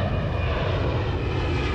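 A fixed-wing airplane at Sydney airport roars steadily and loudly, a continuous engine drone with no speech over it.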